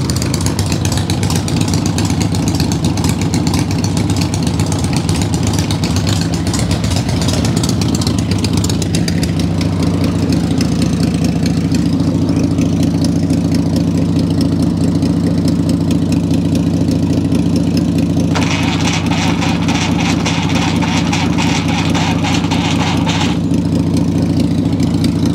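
A motorcycle fitted with a cheap Chinese CB carburetor runs in cold winter weather, its engine holding a steady, close, rumbling idle for the whole stretch with only slight shifts in pitch.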